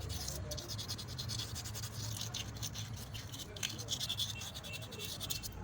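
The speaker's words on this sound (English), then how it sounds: "Now you scrape the carbon that is there." Someone scrapes carbon deposits off a two-stroke Tiger generator engine part by hand, producing quiet, continuous scratching strokes close by.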